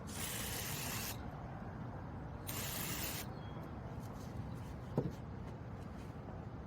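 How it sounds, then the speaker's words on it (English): Brake cleaner sprayed from an aerosol can into a stuck part, two steady loud hissing blasts close by with a faint click between, over a constant background rush. "I was thinking maybe I could spray some brake clean or something in there to try to loosen it up."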